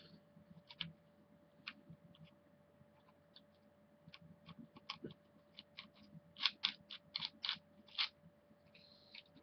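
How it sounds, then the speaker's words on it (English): Screws being undone on a Mosin Nagant 91/30 rifle with a dedicated tool: scattered metallic clicks and scrapes, growing denser and louder toward the end over a faint steady hum, with no talk. "I'm gonna undo the screw right here, and then the screw right here."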